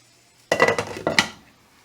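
A metal lid clanks down onto a cooking pot during a home Easter dinner, giving a sharp clatter followed by a second lighter clink, close by, then a fading ring with no talking.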